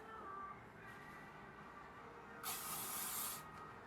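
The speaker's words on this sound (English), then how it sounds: "Then what I do is I just spray my hair." L'Oreal Elnett hairspray is sprayed onto hair in one faint, close hissing burst of about a second, after quiet room noise.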